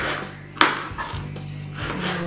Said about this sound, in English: So what I'm doing is I'm chopping them up